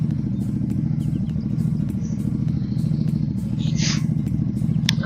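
A Royal Enfield GT 650 twin sits idling after a cold start, a steady, loud, low rhythmic thrum with faint mechanical clatter on top, continuous and unchanging.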